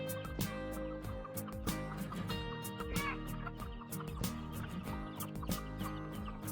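About 120 to 130 free-range village chickens on a poultry farm cluck and cackle in a dense, steady chorus, with scattered sharper calls over a busy, noisy farmyard background.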